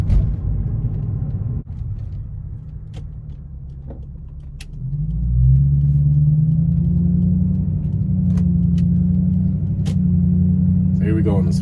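Car on a test drive swinging through a hard left turn, steady road rumble and engine drone that swells midway as the car powers through, with a voice speaking over it.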